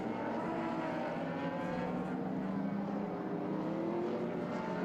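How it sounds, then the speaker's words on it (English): Historic sports sedan race cars including a Toyota Celica, Ford Capri and a little Mini pass at a circuit sprint race, engines droning loudly and steadily throughout with layered revving and no clear gaps. "They've made a big break on the next group of cars coming through, which is the Capri and the little Mini."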